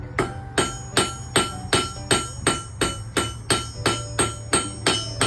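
A blacksmith at a log cabin village hammers hot metal to narrow out a fork, sending about a dozen loud, ringing strikes in a steady, evenly paced rhythm, close by and with no talking.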